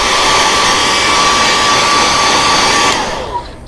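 A heat gun heat-setting fresh paint, blowing a loud, steady high-pitched whoosh with a faint whine, then cutting off near the end and leaving the fan dying away.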